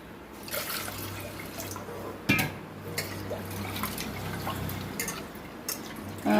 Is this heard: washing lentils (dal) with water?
yes